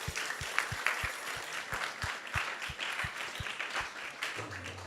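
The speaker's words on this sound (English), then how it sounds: "let's give a big round of applause to everyone who has joined us" An audience at an ISKCON temple gathering applauds, a steady round of many hands clapping at moderate distance, with a faint voice at the end.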